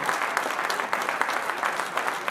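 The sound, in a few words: audience applause for a conductor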